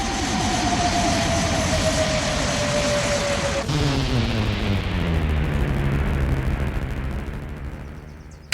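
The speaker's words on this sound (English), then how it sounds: "alien mothership, which has hung in orbit for 3 days and 3 nights, makes its descent to Earth" A sketch-comedy sound effect of an alien mothership descending to Earth: a loud, sustained roaring engine-like rumble with a falling whine, shifting abruptly midway and then slowly fading out, with no voices.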